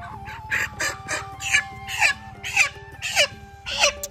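A chicken about to be slaughtered for a village picnic clucks and squawks in a steady series of agitated calls, close and loud, with no speech.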